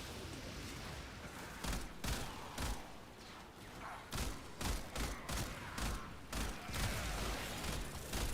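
Burst-fire weapon shots in the video game Warframe, a prime rifle firing short repeated bursts of sharp cracks at irregular intervals over a busy game soundscape.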